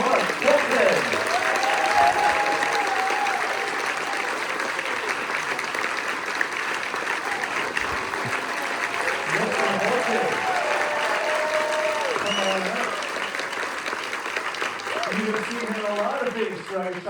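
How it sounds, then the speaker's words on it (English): An audience at the Warner Bros. Studio Tour Hollywood gives sustained applause for guest Mark Buxton, a broad, even wash of clapping lasting the whole stretch, with a few voices and music tones rising underneath. "give a big Warner Brothers Studio Tour Hollywood round of applause for my very first guest"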